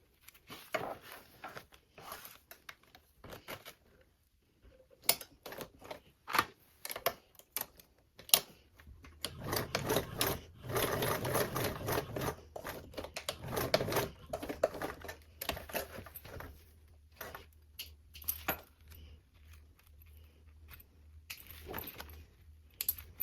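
Stitching across a bag strap close to its metal hardware, a sewing machine ticks in a slow, uneven run of light clicks, then speeds into a denser rattling stretch before slowing again.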